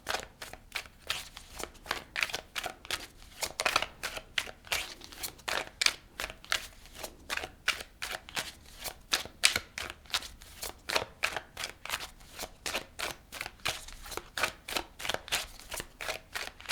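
A tarot card deck is shuffled in a long, steady run of crisp riffling bursts, close and fairly quiet, with rapid repeated flutters and no talking.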